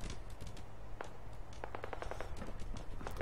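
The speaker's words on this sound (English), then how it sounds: "Can you hear that? Gunfire?" Distant gunfire in Fallout 4 crackles in quick irregular bursts, sharp cracks clustering together, faint against a steady low background hum.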